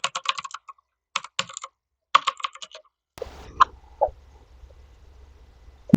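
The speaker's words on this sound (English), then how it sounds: "I'm going to type my password once again" Bursts of quick key presses on a computer keyboard as a password is typed, several short clusters of clicks, close and clear, then a few sharper isolated clicks over a low hum.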